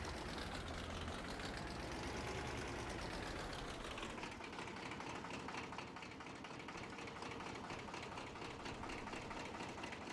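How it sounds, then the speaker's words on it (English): Steady droning mower engine in Farming Simulator 25, continuous and loud with a rising-then-settling whine in the first few seconds. "And now try again with the mower."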